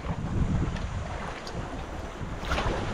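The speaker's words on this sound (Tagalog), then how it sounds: "Grabe ang hangin ay dulo." Strong wind roars and buffets the microphone steadily, with a low rumbling texture and gusts swelling now and then, no voices present.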